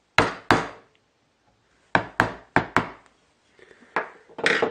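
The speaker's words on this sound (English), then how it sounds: "So I'll punch a divot in the middle." A metal punch is struck into wood to make a centering divot for drilling: two sharp hammer taps, a pause, then four more quick knocks, close and clear, followed by faint handling noise.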